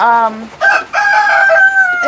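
A backyard flock of mixed-breed chickens, including Easter Eggers, calls up close: a loud, drawn-out rooster-like crow and clucking cries in quick succession over about two seconds.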